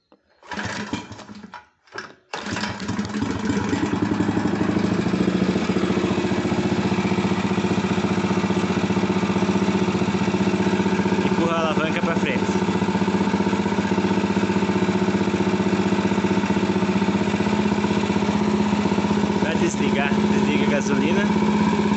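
A Menegotti RAM 75M rammer compactor's petrol engine is pulled into life after a couple of brief starting attempts, then runs at a steady, loud, buzzing idle for the remaining twenty seconds.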